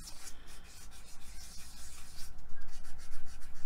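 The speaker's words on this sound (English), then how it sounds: "I'll just sand that little bit in the middle so it looks a little bit more warm." Sandpaper rubs across a faux aged terracotta phone stand in quick, regular back-and-forth strokes, a close, raspy scratching that grows slightly louder toward the end.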